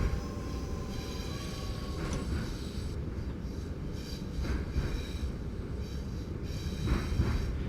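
A train in the OpenBVE simulator game rolls downhill at about 15 miles an hour, making a steady low rumble of wheels on rails with faint metallic squeals and tones drifting over it.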